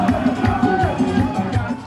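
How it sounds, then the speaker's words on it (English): A large crowd of protesters moves through the streets of Port-au-Prince, Haiti, angry over rising living costs. Their dense, continuous murmur and shouting stays steady and fairly loud throughout. "Crowds of people move through the Haitian capital, Port-au-Prince."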